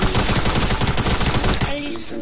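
Rapid gunfire in a video game, dense bursts of shots close and loud for most of the moment before cutting off, with faint voice and game noise underneath.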